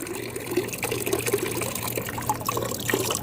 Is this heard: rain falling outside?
no